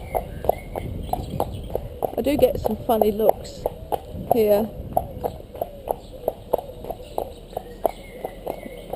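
A horse walks at a steady pace, hooves clip-clopping in an even, regular rhythm close by, while a person speaks briefly over the footfalls partway through.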